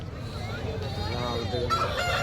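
A rooster crows loudly at a busy Wednesday chicken market in Kavundapadi, Erode district, the long drawn-out call rising over crowd chatter and clucking hens, with people talking nearby.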